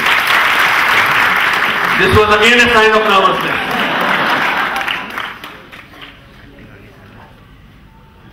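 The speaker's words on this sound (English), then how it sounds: "One round of applause for this." Clapping from an audience at an inspirational talk rolls on as a steady, full wash of hands, with someone speaking over part of it before the applause fades away to near quiet.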